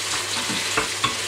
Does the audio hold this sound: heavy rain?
no